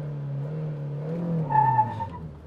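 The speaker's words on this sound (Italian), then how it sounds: "qui abbiamo sentito che il controllo di trazione ha subito tagliato il motore, addirittura creando uno scalino" A small Italian-Chinese car accelerates from a standstill, its engine note rising and then abruptly stepping down as traction control cuts power; a short tire-like squeal follows, close and moderately loud with no talk.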